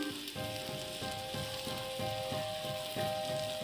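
Ground coriander, cumin, chilli and turmeric fry in a pan of oil with a close, steady sizzle, broken by a regular rhythm of stirring strokes, with no voices.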